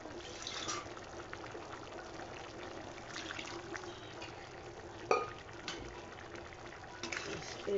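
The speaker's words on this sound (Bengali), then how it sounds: "এরপর আমি একটু জল অ্যাড করব।" Water is poured into a pan of vegetarian ghugni, a low, steady trickle and splash over background hiss, with a few sharp clinks partway through.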